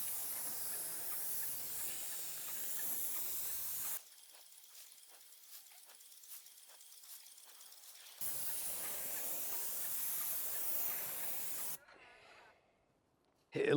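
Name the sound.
spray painting a metal door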